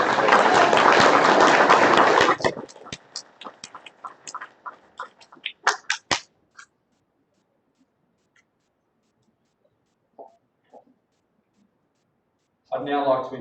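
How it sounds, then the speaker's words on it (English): Audience at a school presentation afternoon applauding as award recipients leave the stage, a dense burst of clapping that thins into scattered claps and stops, with a short voice near the end. "A round of applause as they exit."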